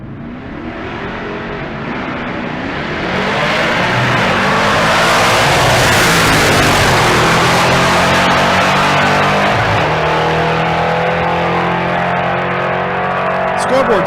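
A naturally aspirated big-block 1970 Roadrunner and a 1969 Chevelle launch side by side on a drag strip at Bandimere, their engines swelling into a loud, sustained roar that holds for several seconds, with commentary over the top.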